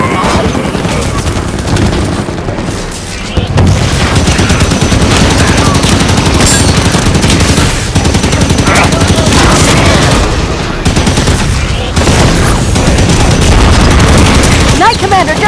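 Turrets firing in the Halo 5 video game: dense, sustained bursts of rapid gunfire and booming blasts, loud and nearly continuous, with voices in the mix.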